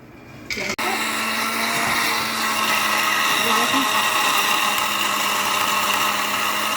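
An electric grinder whirs steadily and loudly after a brief start, grinding cooled roasted spices and chana for dam ka qeema, a continuous motor drone with no speech.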